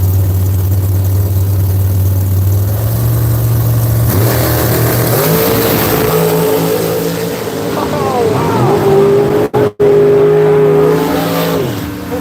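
Drag race cars at Seattle International Raceway roar off the line and blast down the track, a loud engine drone rising and shifting pitch as they accelerate away, with a public-address voice talking over the noise.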